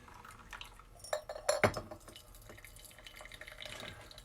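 Soft, sparse drips of rinse water falling through a paper coffee filter in a Melitta pour-over, with a few light clinks and a brief splashy trickle in the middle, quiet and close.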